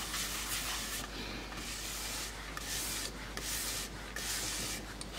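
Wooden bowl turned from scrap board spinning on a lathe while Yorkshire Grit microfine abrasive paste is rubbed against it, giving a steady, close, continuous sanding hiss with slight rhythmic swells, no talking.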